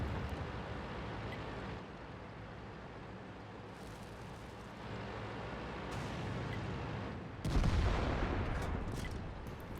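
Artillery shells strike near a tank in World of Tanks, with a few dull distant booms and one heavy close impact near the end, set over a steady low engine rumble with no talking.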